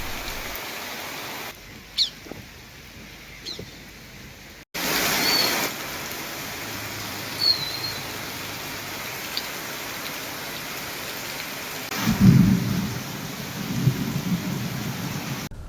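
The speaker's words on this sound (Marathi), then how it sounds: "हा पाऊस एवढा मुसळधार पडला की सर्वच ठिकाणी पाणीच पाणी पाहायला मिळालं" Heavy monsoon downpour with thunder, a steady dense roar of rain punctuated by low rumbling thunder, with a louder rumble near the end; no voices present.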